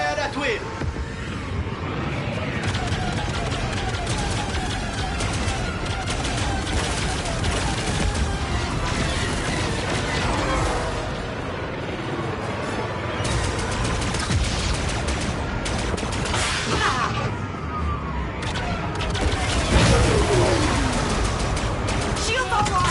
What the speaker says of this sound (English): All hands, fire at will.